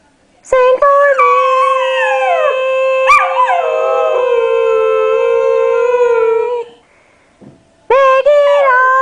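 Maggie the dog sings on command with a sustained, rising and falling howl, close and strong, breaking off briefly and then resuming for another loud stretch.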